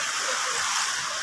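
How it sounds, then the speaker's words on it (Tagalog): A flowing stream at a nature camp in Tanay, Rizal gives a steady, close wash of running water that fills the short moment without pause, with no voices over it. "Batis."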